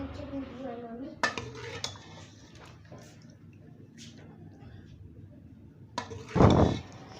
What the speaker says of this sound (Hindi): और ये बस सालन मैंने डोंगे में डाला